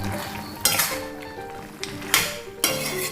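A spoon clinks and scrapes against a pan while chicken curry with pepper powder and garam masala is stirred, giving several sharp metallic knocks between softer scraping strokes.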